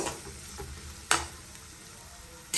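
Chopped onion frying in a pan for egg curry, a steady soft sizzle with a few sharp stirring scrapes standing out, close and moderately quiet, no voices.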